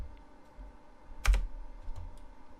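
Keys on a computer keyboard are typed at a desk. There are a few sparse, close taps and one sharper, louder keystroke partway through, over a quiet room.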